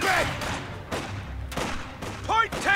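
Enemy gunfire on the Essen Steelworks map in Company of Heroes 2, a series of sharp rifle and machine-gun bursts at moderate distance, with soldiers calling out between the shots.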